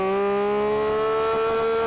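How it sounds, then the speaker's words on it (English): A Porsche 911 GT3 RS engine revs up steadily in first gear, its droning tone climbing slowly in pitch as it holds a continuous loud whine with no talking. "Let's have a listen to this engine."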